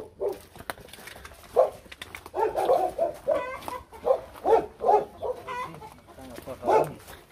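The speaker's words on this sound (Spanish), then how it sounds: "Se oyen los perros." Several dogs bark in irregular bursts nearby in rural Guatemala, loud and repeated, with a rooster-like crowing mixed in among them.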